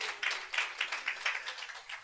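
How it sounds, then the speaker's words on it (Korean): An audience at a Gyeonggi teachers' research conference claps in a faint, loose rhythm, a thin patter of separate hand claps heard at a distance, with no talking over it. "곽용도 선생님께서 꼭 신춘문예에 좋은 결과 있기를 박수 한번 쳐주시면서"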